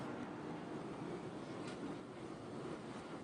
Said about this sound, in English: Next, we'll go on the Disneyland Railroad to see what has changed from that perspective.